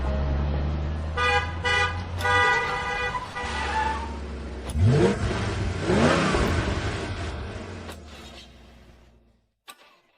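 A stalled car's engine revs hard and unevenly, mixed with several short horn toots in the first half, then fades away near the end with no one talking.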